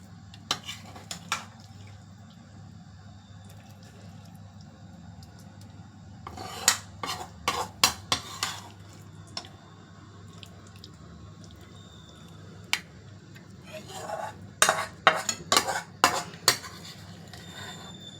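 Cooked cassava masala being transferred from a pan into a dish, heard as scattered sharp metallic clinks and scrapes of a spoon against cookware, bunched in bursts with quiet pauses and a low hum underneath.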